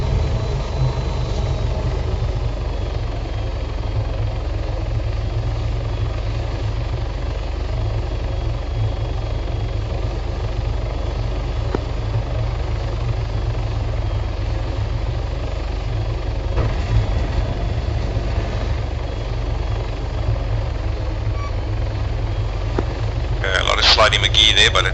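Helicopter flying during rotary training in the video game Arma 3, a continuous heavy low rotor thump and engine drone from inside the aircraft, steady throughout, with radio-style voices talking over it.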